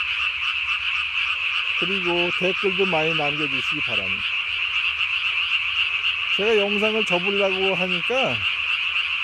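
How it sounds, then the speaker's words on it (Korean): Tree frogs calling at night in Korea in May: two bursts of rapid, pulsed croaks ring out close and loud over a constant high-pitched chorus, while someone talks throughout. "하여튼 개구리 소리 잘 들으셨습니까?"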